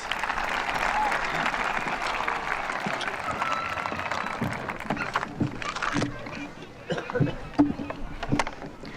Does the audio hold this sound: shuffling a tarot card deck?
no